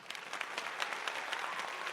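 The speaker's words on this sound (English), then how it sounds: "I just would love, really love a round of applause for me." Brief, close crowd clapping fills the space evenly, a dense patter of many hands at a live show, with no voices on top.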